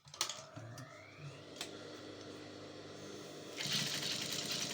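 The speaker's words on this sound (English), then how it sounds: "So when it gets in like so, I'm going to go ahead and stitch" A sewing machine stitching fabric for an off-shoulder umbrella dress with puff sleeves, faint and close, starting with a few light clicks and then settling into a rapid whirring run of stitches toward the end.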